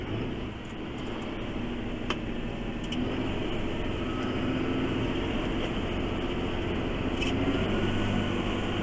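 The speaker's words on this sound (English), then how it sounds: "this mower spins at 1000 RPM" A ride-on or tractor mower with blades spinning at 1000 RPM drones steadily and loudly throughout, a continuous engine and cutter roar with no pauses.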